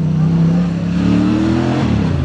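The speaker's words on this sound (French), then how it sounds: "Non, c'est une moto." A motorcycle passes close by, its loud engine tone rising and then sliding down in pitch as it goes past, with no talk over it.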